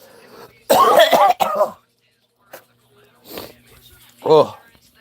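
A man coughs and splutters while drinking water: several harsh, throaty bursts, first a dense cluster, then scattered weaker coughs and a final choking hack, loud and close, with pauses of near silence between them.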